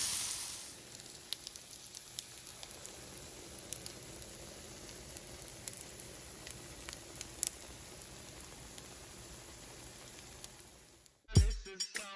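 Baguette slices toasting in garlic butter in a pan over lowered heat, giving a steady soft sizzle with scattered tiny pops, fairly quiet and close, ending in a brief clatter.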